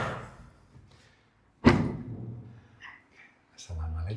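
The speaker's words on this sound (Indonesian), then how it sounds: "pintu." A door in a new apartment closes with a single sharp, close thud, followed by light rattles, after speech fades out at the start and before people begin talking again at the end.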